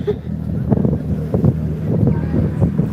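A tour boat engine drones low and steady nearby off Sinop, Turkey, playing no music, with wind buffeting the microphone and faint voices mixed in.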